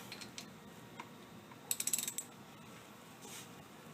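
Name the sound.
socket ratchet tightening a Toyota Camry brake bolt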